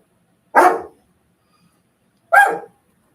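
Two separate barks from a dog, each short and loud, spaced well apart against an otherwise silent indoor room.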